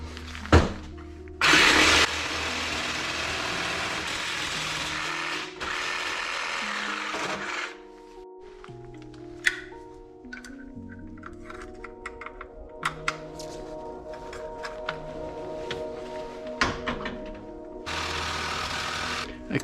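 DeWALT grinder and reciprocating saw cutting metal for a workbench: a long, loud, steady buzzing cut with brief bursts, a stretch of uneven rattling and clunking, then a renewed loud cutting burst at the end, close and without talk.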